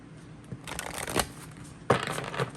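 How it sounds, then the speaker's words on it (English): Two quick bursts of tarot cards being shuffled, a soft riffling flutter close by, with quiet pauses between them. "Let's do a couple shuffles, and we'll cut the deck and draw a card."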